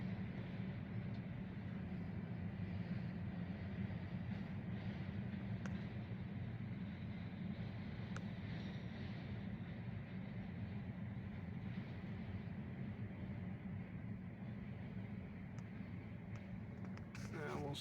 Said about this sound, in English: 37 gondolas, everybody, and then the caboose.